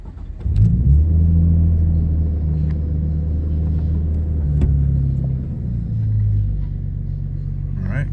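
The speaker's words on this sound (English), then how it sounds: "This is gonna be a cold start so you can see how it runs from cold start." A 1998 Nissan Skyline R34 25GTT cranks and fires on a cold start, then settles into a steady, slightly raised idle with a low rumbling drone, recorded up close. Someone talks faintly now and then.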